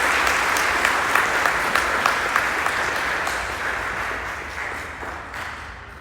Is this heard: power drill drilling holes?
no